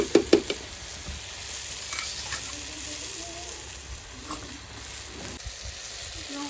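Tomatoes and green chillies frying in a pan in a home kitchen, a steady soft sizzle with a few clinks and scrapes of stirring at the start and scattered small knocks later.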